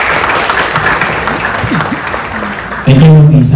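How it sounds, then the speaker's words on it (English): An audience gives steady applause for nearly three seconds, a dense patter of many hands, before a voice starts speaking loudly into a microphone. "Another applause, please."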